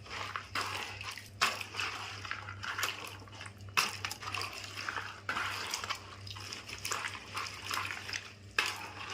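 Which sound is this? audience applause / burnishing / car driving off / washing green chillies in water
washing green chillies in water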